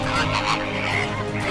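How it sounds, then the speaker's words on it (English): Bar-headed geese, winter visitors to Gujarat's wetlands, honk in a lively flock, overlapping nasal calls repeating close and loud with no talking. "Bar-headed geese, the highest flying birds in the world, are the winter visitor to Gujarat."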